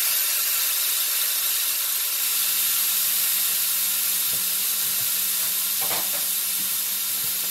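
Tomatoes on the vine stirred into a hot pan for curry chicken, a loud continuous hiss of sizzling with a few scraping stirs toward the end.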